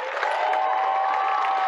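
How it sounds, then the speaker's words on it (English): Basketball crowd giving a standing ovation to the coach in a gym, a steady wash of applause and cheering throughout, full and sustained with no breaks. "Crowd giving him a nice standing ovation."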